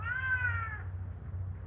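One loud, close cat meow, drawn out for under a second, from a 1934 film scene, followed by a low steady hum with no talking.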